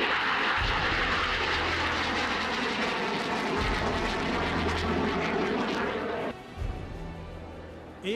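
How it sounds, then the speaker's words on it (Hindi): Chinese PLA fighter jets take off one after another in a loud, continuous roar of jet engines. The roar stays dense and powerful for several seconds, dips briefly near the end, then surges again. "एक के बाद एक ताबड़तोड़ अंदाज में जंगी जेट का झुंड टेक ऑफ करने लगा।"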